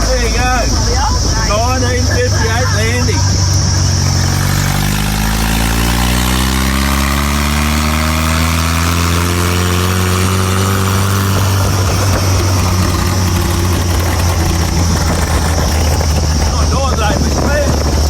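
A 1958 Land Rover with drum brakes on all four wheels idles with a loud, low rumble, swells briefly as the revs rise and fall, then settles back to idle while people chat nearby.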